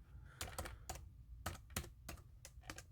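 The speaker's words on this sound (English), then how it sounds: "when you type in for crypto" Quick bursts of keystrokes clack on a computer keyboard, quiet and close, in irregular clusters of taps with short pauses between them.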